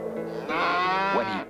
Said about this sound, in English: there was a huge blue baby ox